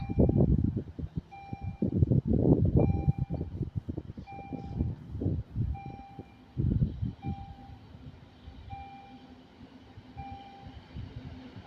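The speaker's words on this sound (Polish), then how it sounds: "Jedzie e ED72." An ED72 electric multiple unit rumbles and clatters past at close range near a railway museum, heavy wheel noise fading out as a steady repeating warning beep continues over a quieter tail.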